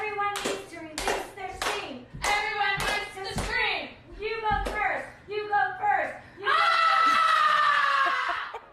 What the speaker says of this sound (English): Everyone needs to release their steam. Everyone needs to scream.